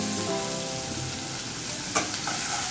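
Chopped onion fries in a little oil in a pan with a dense, constant sizzle. A spoon stirs it now and then, with one sharp scrape near the end. It is close and loud, with no talking.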